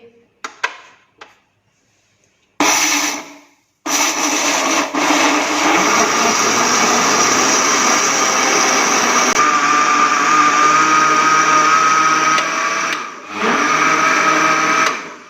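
After a few soft handling knocks, a blender whirs loudly and steadily as it grinds strawberries and sugar for a milkshake, runs for about ten seconds, then cuts off with a short final pulse.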